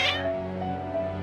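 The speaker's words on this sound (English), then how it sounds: "Your cats seem pretty worked up." Cats meowing in the video game Genshin Impact, a short agitated feline cry over a sustained musical backdrop, fairly faint.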